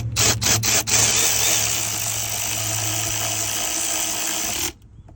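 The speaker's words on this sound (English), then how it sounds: "Get your 8mm bolt and get her started. All right, got them both started. And we're gonna snug them up." A power driver snugs up 8mm transmission pan bolts on a 2023 Sierra HD 10-speed transmission, with a few quick stuttering bursts followed by a steady close whir that cuts off near the end.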